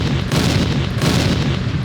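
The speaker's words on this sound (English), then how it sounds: "Always have a gunshot sample" A gunshot sample fired from a Denon SC3900 DJ deck booms loudly and continuously, heavy rumbling blasts rolling together without pause.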